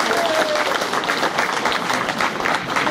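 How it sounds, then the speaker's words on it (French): Sustained crowd applause at a French political rally meeting, a dense, even roar of clapping filling the whole stretch with no talk over it. "et qui mérite d'être applaudi."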